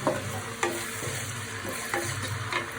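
Mixed vegetables for veg fried rice frying in a pan with salt added, a steady close sizzle broken by several sharp scraping stirs of the spatula, with no voices.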